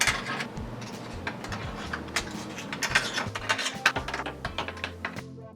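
Small screws being driven back into an original Xbox One console case, a quick run of light clicking, ratcheting taps close by, steady and without talk.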